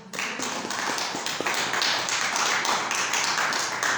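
Loud, sustained applause from a church congregation, dense steady clapping that fills the whole stretch with no pause.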